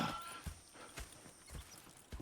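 Horse hooves clip-clopping at a steady walking pace in Red Dead Redemption 2, several distinct hoof strikes close by, with a faint whinny early on.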